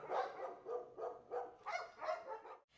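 A police sniffer dog, trained to search for drugs, weapons and ammunition, barks about six times in a steady rhythm of sharp, close barks with short gaps between them.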